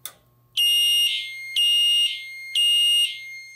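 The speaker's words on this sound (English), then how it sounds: "our photo smoke detector, which will make this sound base do code 3" Silent Knight fire alarm sounder base sounding the code 3 temporal pattern, three long loud piercing electronic tones in even rhythm, close up.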